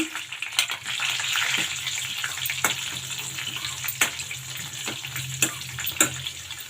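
Garlic cloves and slit green chillies frying in oil, a steady loud sizzle with a few sharp crackles and pops spread through it.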